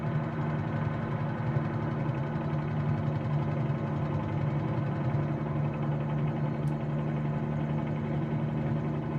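A Bell 47G-2A1 helicopter engine in a flight simulator game drones steadily with a constant low hum and layered harmonics, unchanging and alone with no talk.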